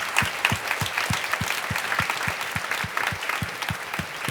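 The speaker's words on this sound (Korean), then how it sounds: "우리 크게 한번 박수하면 좋겠습니다." A church congregation at a university group service claps in unison, a steady rhythmic beat of sharp hand claps about twice per second over a bed of scattered clapping and crowd noise.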